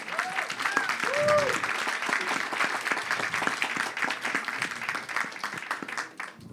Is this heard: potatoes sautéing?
no